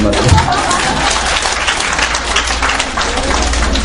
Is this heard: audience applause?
yes